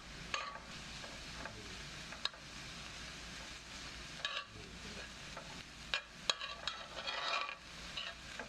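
Leftover cold rice is stir-fried with galbi in a pan, giving a quiet, steady sizzle broken by scattered scraping and clicking spatula strokes, with no talk.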